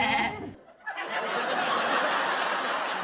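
A goat sound effect bleats in a short, wavering, nasal cry after a brief burst of voice, clear and fairly close.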